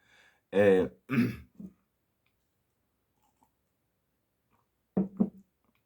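Two harsh throat-clearing coughs up close, then a pause of near silence before a shorter double throat-clear near the end.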